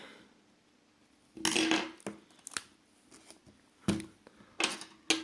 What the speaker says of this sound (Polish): Później ściągamy klawiaturę, podwadzamy ją jakimś haczykiem czy czymś